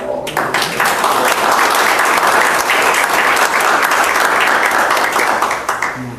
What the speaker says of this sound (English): I'd like to suggest we do a round of applause.